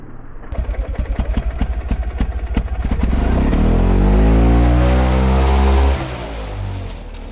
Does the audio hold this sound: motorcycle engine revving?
yes